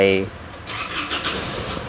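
An Isuzu D-Max pickup engine is restarted after a reported clutch problem: a brief starter crank gives way to the engine catching and idling, heard close with a voice talking at the start.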